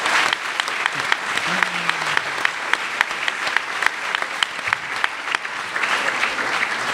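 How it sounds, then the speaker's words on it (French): Audience applause fills a conference hall after volunteers are thanked, a dense sustained clapping wash with a few sharper claps standing out, steady and fairly loud from start to finish. "On peut les applaudir."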